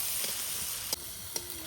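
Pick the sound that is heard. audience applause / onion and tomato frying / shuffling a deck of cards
onion and tomato frying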